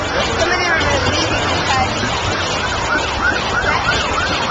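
An ambulance siren wails steadily at the Afrofest 2010 outdoor festival after a branch fell into the crowd, loud and continuous amid crowd noise and traffic, with voices talking underneath.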